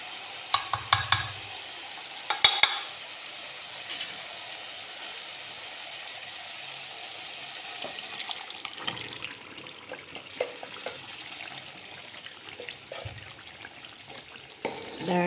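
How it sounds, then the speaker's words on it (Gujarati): Boiled dal poured into a ghee-and-oil masala for Kathiyawadi-style dal bati, giving a soft sizzle and wet stirring with a few sharp clinks of a spoon against the pan, close and steady, no talking. "હવે આપણે એની અંદર નાખી દઈશું દાળ જે આપણે બાફીને રાખી હતી"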